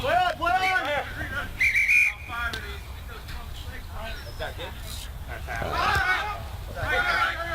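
A referee's whistle at a rugby sevens match in Springfield sounds one short, shrill blast over crowd noise and ongoing talk, followed by more crowd sound.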